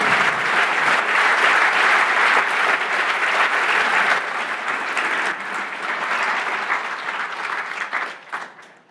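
A real estate conference audience gives sustained applause, a thick wall of clapping that holds for several seconds, then thins out and fades with a few scattered final claps.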